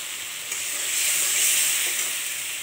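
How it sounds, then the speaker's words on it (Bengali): Spices with turmeric are sautéed in a pan after a splash of water is added, giving a loud, continuous hissing sizzle that swells and then settles slightly, close and alone. "এবার ভালো করে কষিয়ে নেব।"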